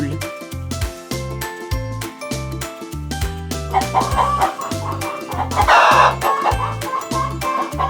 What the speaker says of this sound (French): Comment on fait une poule?